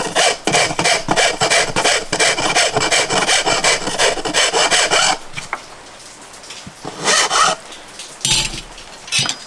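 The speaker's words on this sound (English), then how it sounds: "I'm going to straighten that out with my Shinto rasp" Shinto rasp with fine teeth filing the jagged wooden bottom edge of a cigar box for a guitar neck, with rapid rhythmic rasping strokes, loud and close, for about five seconds, then a pause and a few shorter scrapes.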